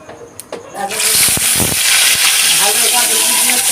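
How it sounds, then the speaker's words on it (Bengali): Koi fish rubbed with salt and turmeric goes into hot mustard oil in a wok, bursting into a loud, close, steady sizzle that keeps hissing after a few light clatters at the start. "এবার মাছটাকে আমি ভেজে নেব কড়াইটা আমার গরম হয়ে গেছে আমি দিয়ে দেব সর্ষের তেল"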